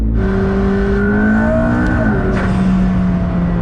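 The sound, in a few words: McLaren car engine revving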